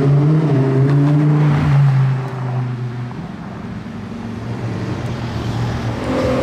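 Aston Martin Speedster driving past on the streets of Monaco during the Grand Prix weekend, a loud engine drone that falls in pitch as the car passes close by, then settles into lower traffic and crowd noise.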